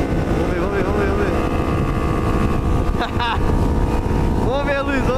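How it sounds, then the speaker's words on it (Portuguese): A sport motorcycle with its original stock exhaust rides downhill on a group road outing, its engine droning steadily with strong wind rush throughout, pitch sliding up and down near the start and end as the rider shifts. "essa aí tá com escape original. Vamos ver aqui na descida agora."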